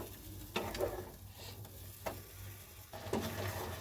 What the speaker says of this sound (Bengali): দিয়ে ভালো করে একটু নাড়তে থাকবো যাতে সব জিনিসের কাঁচা গন্ধটা চলে যায়